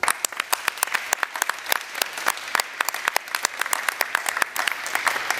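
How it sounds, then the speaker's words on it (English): Audience applause at a National Honor Society induction ceremony for Cape Tech families, steady dense clapping from a large crowd filling the room, continuous and even without voices. "you also deserve a big round of applause"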